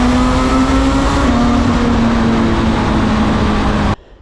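Honda CB1000 Hornet SP 1000cc motorcycle engine singing through its exhaust, a loud sustained high-revving drone with a steady tone held for about four seconds before cutting off abruptly.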